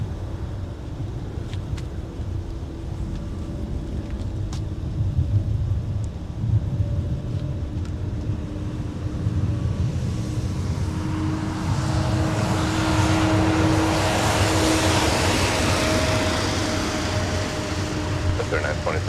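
A Frontier airliner climbs out after takeoff from MSP airport in winter, a broad roaring jet rumble building over the second half and staying loud and steady, with some background chatter underneath.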